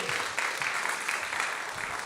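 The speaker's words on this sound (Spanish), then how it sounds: "Mamás, démosle un aplauso a todas las mamás que están aquí presentes." Audience applause for the mothers present at a church service, dense steady clapping filling the room at a fairly loud level throughout.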